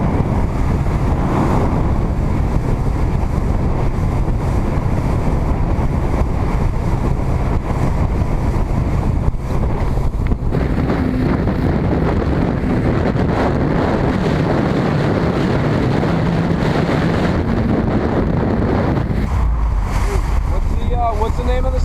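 Boat ride out to Ralph's, a surf spot reachable only by boat, with a steady rumble of hull and engine against waves and heavy wind buffeting the microphone throughout, loud and continuous.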